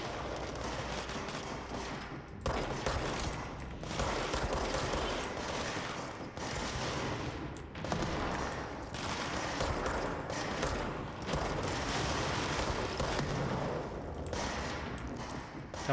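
Rapid gunfire from a video game firefight keeps up steadily at close range, bursts of shots piling up over a constant layer of game noise for the whole stretch.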